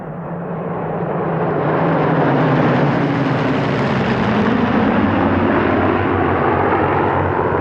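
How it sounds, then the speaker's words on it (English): A formation of nine Spitfire fighters, led by Ray Hanna in MH434, roars overhead at the Duxford airshow, a loud sustained piston-engine drone swelling and holding as the planes pass. "A formation of 9 Spitfires led by Ray Hanna in"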